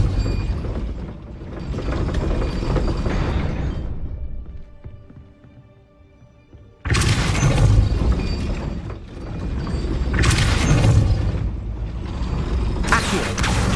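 Depulso spell effects in Hogwarts Legacy, cast inside Old Hogwarts: loud, dense mechanical clanking and ratcheting bursts, a quieter stretch in the middle, then renewed full-band clattering swells with no talking.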